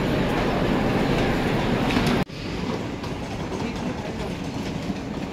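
A local passenger train runs on the rails from Kalyan to Dombivli, making a loud, continuous rumble heard from inside. It briefly dips at one point, then settles back into a steady, slightly quieter roar.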